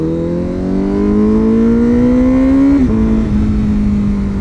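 A 2021 Honda Fireblade with an aftermarket exhaust, untuned and with its servo motor removed, revs close up. Its loud engine note climbs steadily, then drops sharply and settles into a rough, lower hold.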